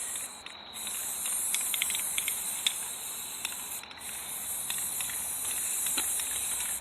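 Aerosol spray paint hisses steadily onto a pumpkin-shaped carriage in continuous bursts, with a few brief pauses between passes and small clicks at the nozzle; no one speaks.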